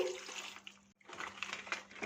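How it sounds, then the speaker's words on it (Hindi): Plenty of water pours over muddy vegetables being rinsed for a chutney, a loud splashing rush broken by one brief pause. "खूब ढेर सारा पानी इसमें शामिल करेंगे।"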